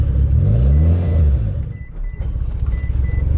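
A manual five-speed DSM/Evo car pulling away in first gear, its engine rumbling low and steady and rising slightly, heard close from inside, with a faint short intermittent beep in the background.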